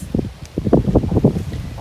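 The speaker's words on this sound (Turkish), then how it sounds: "Allah'tan rüzgar var bugün biraz." Wind sweeps through foliage in uneven gusts, with leaves rustling steadily and rising and falling in loudness over a couple of seconds.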